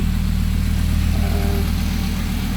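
A cold Toyota MR2 with a VR5 engine and turbo system idles close by. The rumble is low and steady, with no revving and no voices.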